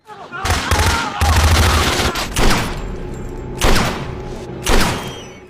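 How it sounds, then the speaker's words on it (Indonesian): Soldiers shoot people in a scene from The Walking Dead season 1: loud, booming bursts of gunfire come in several separate volleys with short gaps between them. "Shane melihat orang-orang tengah ditembak secara brutal oleh tentara"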